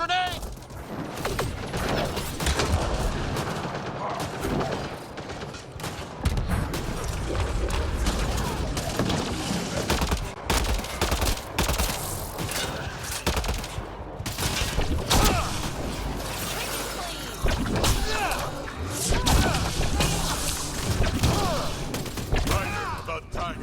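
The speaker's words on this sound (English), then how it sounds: "Watch the grenade!" Combat in Mass Effect Andromeda, with a grenade blast among continuous gunfire, booms and mechanical clatter. Voices speak intermittently over the dense, loud firefight throughout.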